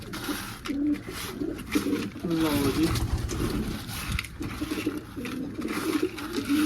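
Pigeons coo repeatedly in soft rolling phrases while someone talks over them and gravel is stirred with mineral powder nearby.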